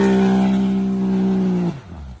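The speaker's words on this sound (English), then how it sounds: "10 out of 10 burnout." A pickup truck doing a burnout, its engine holding a loud, steady high-revving drone close by before cutting off abruptly, leaving a brief rougher rumble behind.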